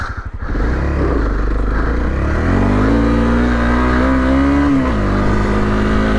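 A Honda CRF250L dual sport motorcycle rides on snow, its engine loud and close, revving up and holding a rising drone for several seconds before easing off.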